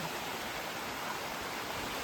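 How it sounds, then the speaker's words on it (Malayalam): A hidden waterfall at a trekking spot in Thrissur sends out a steady, even rush of water, continuous and unbroken, with no voices. "അങ്ങനെ വെള്ളച്ചാട്ടത്തിലെത്തി"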